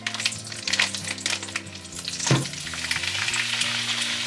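Food sizzles and crackles steadily in a hot pan, with a brief clatter of stirring partway through, while a low kitchen hum runs underneath.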